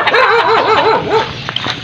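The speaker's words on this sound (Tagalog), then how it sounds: "O, yung aso naman ang sumalubong kay Kwang-Kwang mga rods." A dog barks and whimpers close by, with yips in a rapid, agitated run that ends in a few sharper barks.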